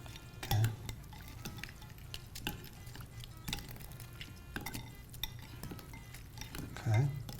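Ingredients for a Karen rice noodle soup being mixed together, with irregular clinks and scrapes of utensils against a bowl or pot at close range, fairly quiet, with occasional low voices in the background.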